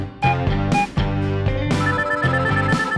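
A toy telephone rings during children's play with toy cars, a steady electronic ringtone repeating in bright pulses over about three seconds, loud and close with no talking.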